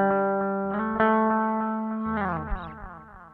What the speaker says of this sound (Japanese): 跳ね返ってくるディレイ音のボリュームが上がります